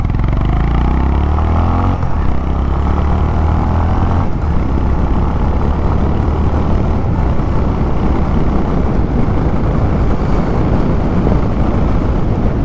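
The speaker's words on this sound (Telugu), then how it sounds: "ఎగ్జాస్ట్ సౌండ్ అయితే మీకు కొంచెం లౌడ్ అయితే ఉంది." A Honda H'ness CB350 engine and fairly loud exhaust pull away in first gear, a close, continuous low throbbing rumble with a steady drone that shifts slightly in pitch early on.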